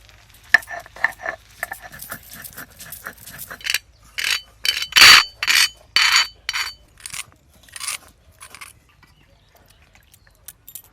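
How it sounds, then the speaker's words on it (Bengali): Cardamom pods crushed on a stone grinding slab, a run of rough scraping strokes in steady rhythm, loud and close, with a few sharp knocks before the grinding settles into repeated bursts. "এলাচ বেটে নেবো"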